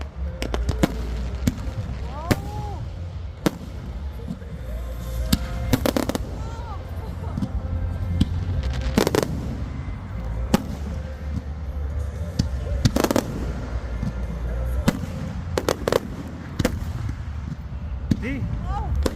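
Fourth of July fireworks at a county fairgrounds, with repeated sharp bangs and crackling bursts at irregular intervals over a steady crowd murmur and background music, and people talking nearby throughout.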